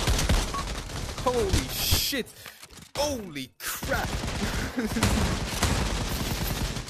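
Rapid gunfire in the VR shooter Pavlov VR, loud bursts of automatic fire with brief pauses, while a player exclaims over the shooting.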